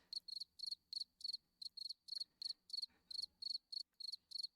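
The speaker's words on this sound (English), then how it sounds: "You can hear the crickets?" Crickets chirp at night in a steady series of short, bright pulsed bursts, roughly three a second, fairly close and clear against a quiet background.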